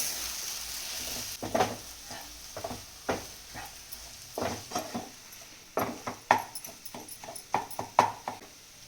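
Egg bhurji cooked with ghee in a pan sizzles softly underneath repeated scrapes and taps of a spoon stirring it, an irregular rhythm of close clinks and scrapes across the whole stretch, with no speech.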